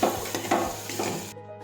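Mixed vegetable curry of brinjal, potato, tomato, drumstick and peas being stirred in a pressure cooker after salt and sugar, with scraping strokes and a soft sizzle that cut off abruptly near the end.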